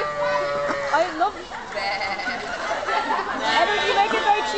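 A man imitates sheep bleating at a zoo enclosure in Dublin, several wavering nasal bleats in quick succession, close and loud, with other people chattering and laughing around him.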